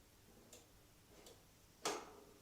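Air control slider on a Charnwood Skye 5 wood-burning stove clicking through its notches: three short, crisp clicks spaced about 0.7 seconds apart, the last one loudest, with no talk.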